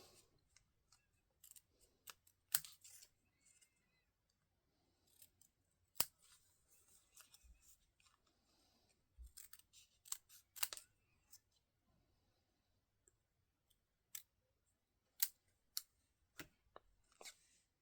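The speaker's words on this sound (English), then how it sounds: "now let's fussy cut it off." Scissors snip and fussy-cut around paper pieces for a Stampin' Up Paper Pumpkin autumn card craft, giving scattered close, crisp cuts and clicks in irregular bursts with quiet pauses between them.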